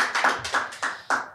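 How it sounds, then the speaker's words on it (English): A handful of separate hand claps in a steady, slightly slow rhythm, close and fairly loud, with no talking over them. "The applause."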